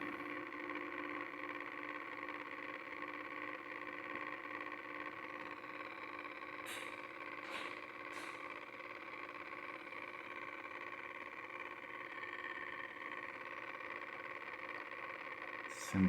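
The motor board of a 1923 Victor Victrola gramophone runs at about 78 RPM, a steady, faint mechanical hum with a few light clicks partway through.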